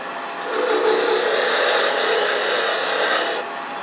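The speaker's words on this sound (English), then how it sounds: "I'm going to use my skew to make that tenon" A skew chisel cuts a tenon on wood spinning on a lathe, producing a loud, close, continuous hissing scrape that holds steady for about three seconds over the lathe's hum.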